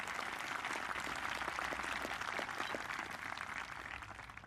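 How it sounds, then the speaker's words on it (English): A graduation audience applauds steadily for the whole stretch, a dense wash of clapping from many hands at moderate distance with no talking over it. "let's give a round of applause, not only to those here, but also those already serving. Big round of applause."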